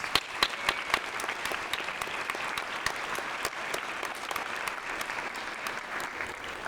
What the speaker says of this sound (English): Could you also join me in giving all of those folks a round of applause?